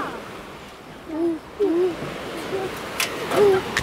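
Young child imitating an owl with soft, breathy hoots, three short calls spread across a few seconds over faint wind-like background noise.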